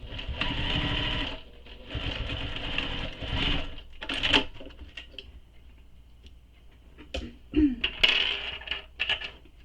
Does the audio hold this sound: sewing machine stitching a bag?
yes